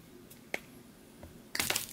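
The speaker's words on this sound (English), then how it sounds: "So the nice thing about using a wire cutter is that it actually crimps at the same time" A wire cutter trims bristles in a workshop, giving faint, sharp snips: one isolated click, then a quick cluster of crisp cuts near the end, against a quiet background.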